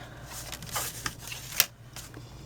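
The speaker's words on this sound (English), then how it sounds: "center of the tree up top here, score line, and fold." Paper being scored and creased with a bone folder while making a Christmas explosion box, a few soft scraping strokes and short sliding swipes, close and fairly quiet, one sharper crisp pass near the end.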